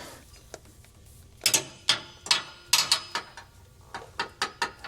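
A ratchet tightens a nut while an Air Lift LoadLifter 7500XL air spring kit is being installed, giving a series of sharp clicking bursts in uneven groups close to the mic, with no talking.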